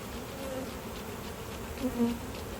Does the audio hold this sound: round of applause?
no